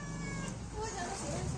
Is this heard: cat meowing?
yes